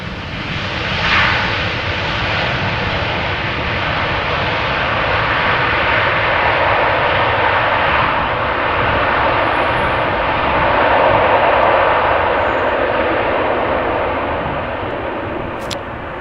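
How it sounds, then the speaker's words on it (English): An airplane lands at Amsterdam Schiphol Airport with thrust reversers roaring, a loud sustained broadband jet rumble that swells and holds steady for many seconds before easing slightly. "Good sound on the reversers as well."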